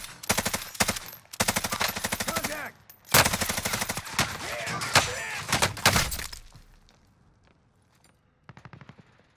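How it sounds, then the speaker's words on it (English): Video game gunfire aimed at a teammate comes as rapid automatic bursts, loud and dense at first, then thinning into sparse, fainter shots with gaps between them. "He's getting shot at from another squad."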